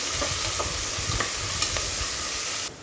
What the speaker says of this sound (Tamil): ஒரு பொடி புதினா ஒரு பொடி கொத்தமல்லி அந்த எண்ணெயிலே நம்ம வதக்கிக்கலாம்